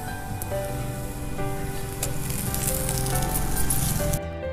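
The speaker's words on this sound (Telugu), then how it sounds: "పచ్చివాసన పోయే వరకు వేపుకోవాలి." Ground masala paste, including garlic, sizzles steadily in a hot pan for a Telugu-style fish curry. A constant close hiss holds throughout and then cuts off abruptly near the end, with no one speaking over it.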